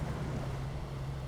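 A truck pushes through deep water in the off-road driving game SnowRunner, giving a steady loud churning wash over a low, constant engine drone with no pauses.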